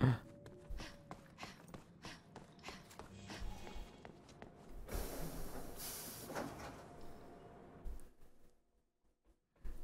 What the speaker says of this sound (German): Zug.